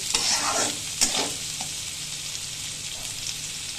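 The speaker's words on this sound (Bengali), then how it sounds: "এটাকে একটু ভেজে নেব।" Rice being stir-fried in a pan for a breakfast rice roast, a steady close sizzle with a few sharp scraping stirs near the start that then settles into an even hiss.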